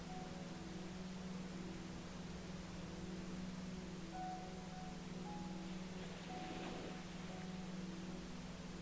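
Steady pink noise plays as a soft, even ambient hiss, with faint sustained tonal drones and a brief swell near the end; no one speaks.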